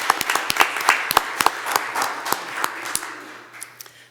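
Sparse clapping from a city council meeting audience, several people clapping in an uneven rhythm that thins out and fades toward the end. Fairly close, in a quiet room.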